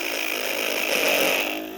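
A power drill runs at steady high speed, drilling into windshield glass at a slight angle to repair a star break or small crack; a continuous close, loud whine holds throughout, swelling slightly near the end.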